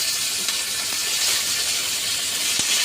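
Curry leaves hit hot oil for an egg and brinjal fry, giving a loud, continuous close-up sizzle and hiss with a few sharp pops.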